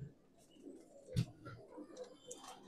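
Young pigeons kept for sale, a Saharanpuri pair among them, give faint, low cooing with soft, uneven pulses and one slightly louder burst in a quiet setting.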